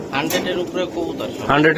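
Pigeons, racing and fancy breeds kept for sale, coo softly and repeatedly at close range while people talk over them.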